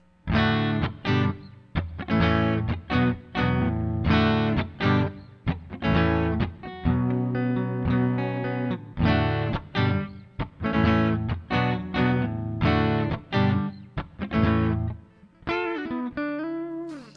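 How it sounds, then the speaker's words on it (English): Clean, undistorted electric guitar played through a Seymour Duncan PowerStage 170 amp into an open Cabzeuz 12-inch cabinet: loud, continuous strummed chords and picked notes with ringing sustain, played alone without voices. "these are all very clean sounds, and that's because it's a very clean, transparent amp, and I'm not running any distortion."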